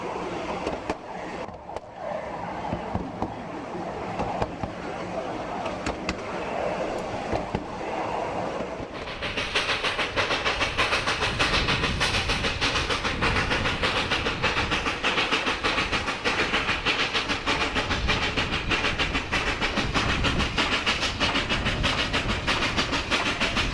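A steam train climbs a 2.5% grade on rails, with a dense, continuous rumble and clatter that swells after a quieter opening and then holds loud and steady for many seconds.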